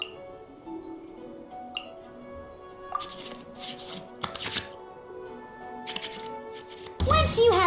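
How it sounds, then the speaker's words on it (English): Cards shuffling back into the draw pile in the Genshin Impact card game: a few soft, brief card-flick swishes spread across a quiet interface backdrop, ending in a brighter burst of game sound effects. "we can select any number of cards in our hand to shuffle back into the draw pile"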